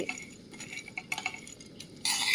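Black and white raisins fry in a pan while a utensil stirs them, giving quiet scraping clinks, then a louder hiss near the end, close up.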